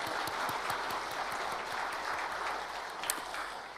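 A church congregation at a New Year's thanksgiving service claps in steady applause, a dense patter of many hands at moderate distance, continuing evenly without voices.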